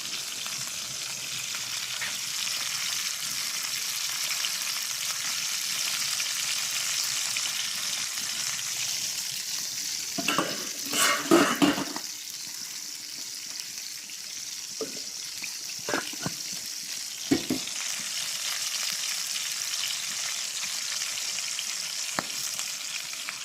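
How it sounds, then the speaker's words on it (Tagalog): Milkfish (bangus) pieces fry in a pan with a constant close hissing sizzle, broken midway by a few bursts of clatter and splashy handling noises, no voices. "dalawang gitna na bangus ang ating prituhin at saka dalawang"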